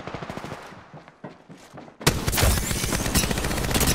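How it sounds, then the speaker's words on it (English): Apex Legends gunfire erupts after two quiet seconds into a loud, dense barrage of rapid shots and impacts that holds to the end. "Shots fired at me"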